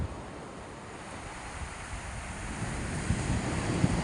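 Sea waves break on a shore during a fishing trip, a continuous close surf wash blended with wind rumble and no voices, the roar swelling slightly toward the end.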